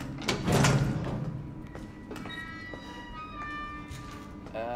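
A door creaks and slides open in a horror survival video game, a rising scrape near the start followed by faint mechanical tones and clicks, with no talking.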